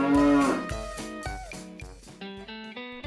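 Korean beef cattle moo loudly and close while being loaded onto a transport truck on a farm in Hongcheon, Gangwon, with several drawn-out bellows in a few seconds.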